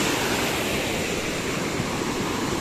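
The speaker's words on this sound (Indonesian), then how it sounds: "Ini juga muter-muter di sini airnya" River water swirls and rushes beneath a bridge at Sumber Langsep, a dense, steady roaring wash like surf that stays loud and unbroken throughout, with no voices.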